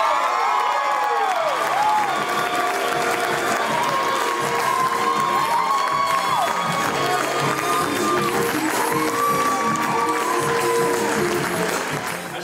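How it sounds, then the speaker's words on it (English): Sustained applause and cheering from a crowd at a charity gala honoring runner-up Billy Terrell, with whoops and shouts riding over steady clapping throughout, close and lively. "Big round of applause for Billy Terrell!"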